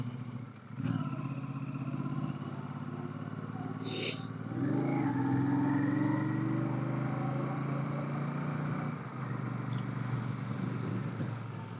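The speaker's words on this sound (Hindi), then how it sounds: "बहुत इजी चल रही है बाइक, लेकिन ये 650 सीसी है तभी ये आराम से चल रही है" Royal Enfield Super Meteor 650, a 650 cc motorcycle, climbing a hill road, its steady engine drone close and continuous with a slight rise in pitch partway through and wind noise throughout.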